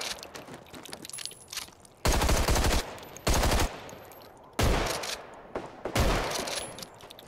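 Loud automatic gunfire in the Contagion video game, several long sustained bursts of rapid shots separated by short lulls.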